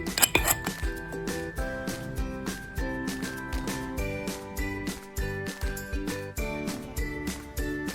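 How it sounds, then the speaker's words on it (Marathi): A glass jar of homemade raw mango pickle is closed with its lid, giving a run of small, close glassy clinks and taps at an uneven rhythm in a quiet room. "आता याला हवा लागली नाही पाहिजे एकदम पॅक करायचं झाकण लावून"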